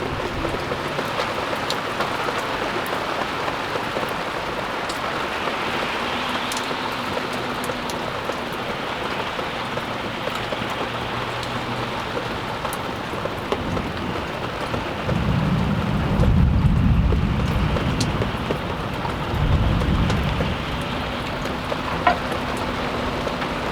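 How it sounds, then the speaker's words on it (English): Steady rain hisses over the water while sailing off Cabo, and two deep rolls of thunder rumble through, the first longer and louder, the second shorter, with no voices. "Our first like thunderstorm we've had."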